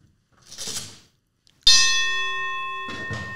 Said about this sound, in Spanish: déjenme tocar la campana